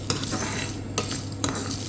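Shallots, dried red chillies, coriander, black pepper and fenugreek dry-roasting in a pan: a soft, steady sizzle broken by three distinct scraping stirs of a spatula, close by with no talking.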